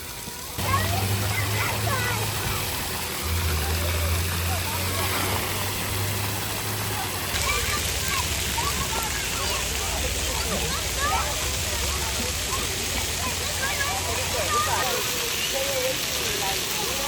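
Children splash and play in water at Harbor spray park, with continuous broadband spray and splatter throughout, steady and fairly loud, while voices talk over it.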